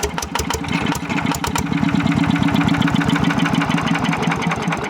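A Yanmar 120Di diesel engine with a leaking oil seal chugs with a loud, rapid, even knocking beat, rising briefly in pace as it is revved.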